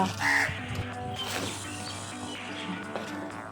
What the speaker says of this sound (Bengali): আমি তাড়াতাড়ি পাখিদের খাবার দিতে চলে আসলাম কারণ বৃষ্টি এসে গেলে ওরা আর আসবে না